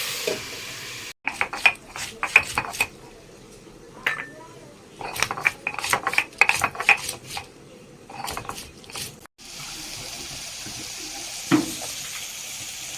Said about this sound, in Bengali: একটু নাড়িয়ে দেবো আর একটু ঢাকনা দিয়ে ঢেকে দেবো